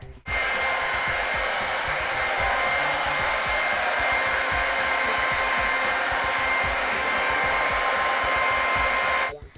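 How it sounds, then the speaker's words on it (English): A hair dryer blows on hair in a steady, loud whirring drone that switches on abruptly, holds constant for about nine seconds, then cuts off. "you have to dry your hair"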